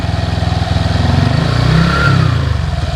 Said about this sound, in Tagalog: Mas mataas na yung RPM pero hindi pa rin tayo naka-engage kasi hindi pa natin nare-reach yung 1000 RPM